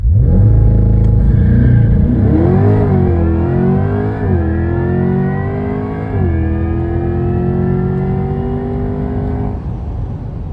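A 2024 Corvette E-Ray hybrid accelerates hard on a race track, its engine note climbing steadily through the gears with brief dips at each shift, loud and close throughout with no talking.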